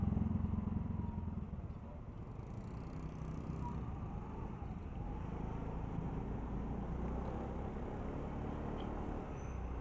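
A motorcycle rides near Tangerang station in Indonesia, its steady engine rumble and road noise continuous and close throughout, with wind and traffic blending in.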